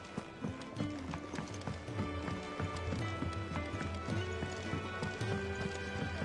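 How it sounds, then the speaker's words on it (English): Horse hooves clip-clopping in the video game Final Fantasy XVI, a steady rhythmic trot of repeated hoof strikes, fairly close and moderate in level, with faint voices beneath. "It sounds like a horse."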